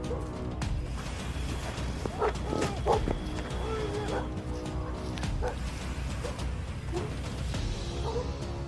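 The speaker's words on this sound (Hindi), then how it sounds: "ऐसा लग रहा है कि यहाँ आसपास एक तेंदुआ मौजूद है क्योंकि यहाँ के कुत्ते बहुत भौंक रहे हैं।" Village dogs bark repeatedly in a tense rural setting with a leopard nearby, scattered yelps and barks at moderate distance over constant background noise, with a narrator's voice running beneath.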